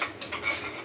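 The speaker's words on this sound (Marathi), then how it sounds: "वाटण असं चांगलं परतून घेते." A ground masala paste is sautéed in a pan, heard as a short, soft scrape of a spoon stirring the thick paste against the metal, close and quiet.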